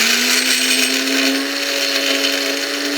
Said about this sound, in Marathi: मी इथे मिक्सरच्या भांड्यामध्ये काढून घेते. झाकण लावायचं आणि डुरकन फिरवून घ्यायचं.